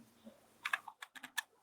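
Keystrokes on a computer keyboard as an Excel formula is typed and Enter is pressed: about eight crisp, close clicks in a quick, uneven burst, with no talking.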